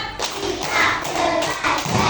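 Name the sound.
children clapping a rhythm in class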